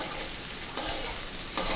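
Okra frying in a pan gives a steady, broad hiss of sizzling oil, with a few soft clicks from stirring rising briefly out of the even, fairly close frying noise.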